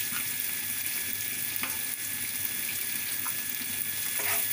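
Broad beans frying in a pan with salt, a steady hiss and sizzle throughout with a few faint scrapes of stirring, no voices.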